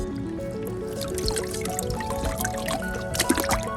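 Liquid pours steadily into a container of filtered water, trickling and splashing close by for a few seconds without talk.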